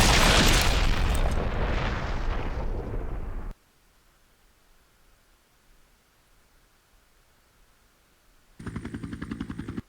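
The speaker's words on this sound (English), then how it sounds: "Go ahead and equip your rocket launcher." A rocket launcher blast in Resident Evil HD booms loud and broad at the start, rumbles for about three seconds and cuts to near silence, then a buzzing game sound returns near the end.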